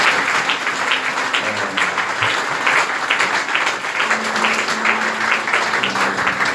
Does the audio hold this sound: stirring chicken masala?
no